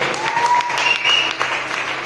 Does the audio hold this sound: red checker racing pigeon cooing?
no